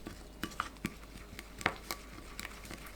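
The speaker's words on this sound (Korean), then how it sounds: "넣고 섞어주세요" Soy sauce, lemon juice, honey, sesame seeds and mayonnaise are stirred together into a dressing in a bowl for a soft tofu salad, heard as scattered faint clinks and light scraping taps, quiet and close.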